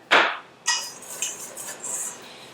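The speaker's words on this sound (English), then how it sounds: "I'm gonna mix this all together" Utensil clinking and scraping against a mixing bowl as chocolate cake batter ingredients with baking spice are stirred together, a few distinct close knocks followed by softer continuous scraping.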